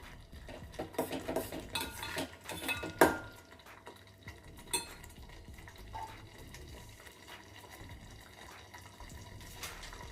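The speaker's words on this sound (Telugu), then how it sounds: "వేసుకొని ఒకసారి ఇలా కలిపేసుకుందాము" A spoon stirs gudannam prasadam, a sweet rice dish, in a pot, with quiet close scraping and clinks that are busiest early on, then a softer thick stirring.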